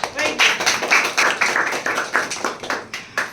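Audience in a podcast studio clapping in a loose burst of hand claps, moderately close, with a few separate sharper claps standing out.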